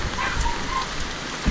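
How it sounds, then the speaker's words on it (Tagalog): Heavy rain pours down steadily during a typhoon, a dense continuous hiss of drops on surfaces heard close and fairly loud while walking, with no voices. "talagang dire-diretso yung pagpatak ng buhos ng ulan"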